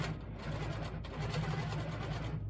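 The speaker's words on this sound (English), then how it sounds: "I'm just stitching in the perimeter here" Longarm quilting machine stitching around the perimeter of a casserole carrier lining, a faint, steady low mechanical hum with rapid needle rhythm, heard alone.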